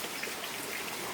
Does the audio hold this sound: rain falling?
yes